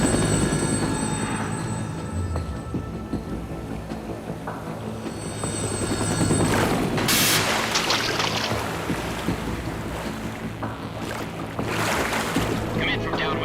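A helicopter in Metal Gear Solid 2 roars with steady rotor wash and wind over the ocean, loud and continuous while voices speak over it.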